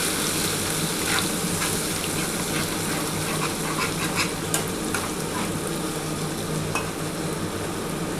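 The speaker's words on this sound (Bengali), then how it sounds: "ভালো করে পেঁয়াজের সাথে মশলাটা কষাতে হবে" Onion frying in a pan with garlic, ginger and green chili masala for a katla fish curry, a steady close sizzle broken by faint stirring scrapes, with no voices.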